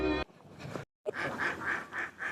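A duck near a riverside village home gives about five rhythmic, evenly spaced quacks, close and fairly loud, after a short burst of other noise and a brief pause.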